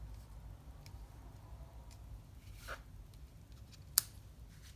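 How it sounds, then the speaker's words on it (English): Scissors trim a ribbon end on a handmade card with a few faint snips and then one sharp, close cut over quiet room noise, with no talking. "And just trim down this ribbon end a bit."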